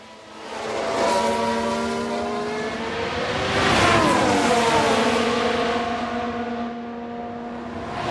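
Ferrari Formula 1 car racing in an F1 Manager 22 game replay, a loud sustained engine whine with shifting pitch as the car passes and accelerates, steady throughout with no talk.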